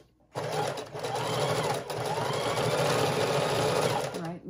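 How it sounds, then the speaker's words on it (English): A sewing machine stitches along the sides of a fabric junk journal cover, running steadily and loud from start to finish after a brief quiet opening, its motor whirring under a continuous needle clatter. "And then I'm going to sew on both sides of this as well."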